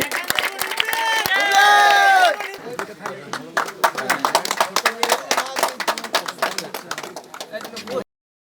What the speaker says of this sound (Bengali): করো জোরে একটি হাততালি দাও